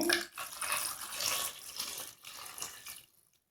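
Water pours in a steady, splashing stream into a cooking pot of brinjals for a village-style oil brinjal curry, loud and close, easing off and stopping near the end.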